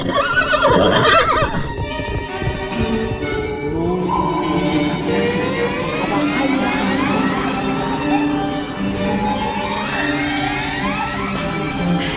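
Horse neighing as a sound effect in a fairy-tale reading, a long, loud whinny with snorts over a continuous background bed, and faint hoof clip-clop early on.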